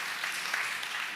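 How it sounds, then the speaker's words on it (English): Light audience applause, a brief soft wash of clapping with no distinct individual claps. "So just give them light applause"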